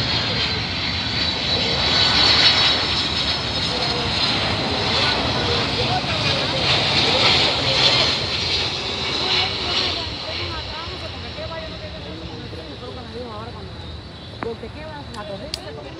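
A plane landing at Miami International Airport, its steady aircraft engine roar loud at first and gradually fading, with people talking over it.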